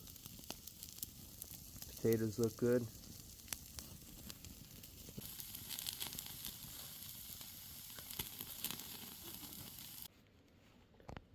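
Steady crackling sizzle of steaks cooking over an open campfire, with a brief voice speaking partway through and the sizzle continuing throughout.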